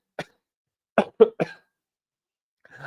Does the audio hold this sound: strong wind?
no